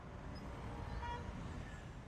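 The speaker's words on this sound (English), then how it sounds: "Someone honked at me." A car horn toots faintly once amid low, steady traffic rumble in PowerWash Simulator 2, set behind a house; no one speaks.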